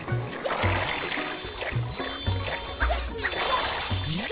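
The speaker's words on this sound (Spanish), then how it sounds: "Estas necesitaban un baño y por eso las he tirado al agua." Pets being tossed into water in Super Mario Sunshine, Pianta Village level: a series of short, repeated watery splashes and tumbling crashes in an irregular rhythm, fairly close and moderately loud, with no voices.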